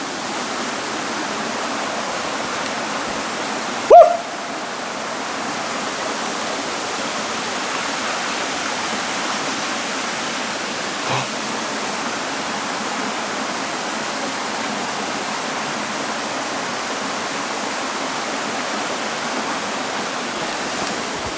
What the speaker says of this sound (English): you can't tell from this waterfall back here, but The water is so fast